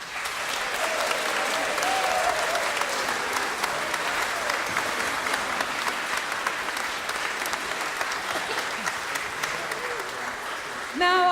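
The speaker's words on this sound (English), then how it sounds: "And I'd just like to give them a round of applause." A Christmas concert audience from a convent school choir event applauds the choir soloists in a steady, even round of clapping, with murmuring voices underneath.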